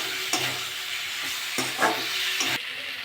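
Potatoes and pointed gourd sautéing in oily spice masala in a pan crackle and sizzle steadily up close, broken by three or four short stirring scrapes and clatters.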